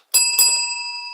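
Bicycle bell rung twice in quick succession, bright metallic dings close by that ring on and fade out after the second strike.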